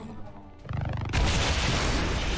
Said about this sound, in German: Ist auch explodiert dabei.